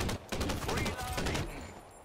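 Bursts of gunfire in the crime shooter game Crime Boss: Rockay City, rapid overlapping shots filling the first second and a half before thinning out, with a voice talking faintly underneath.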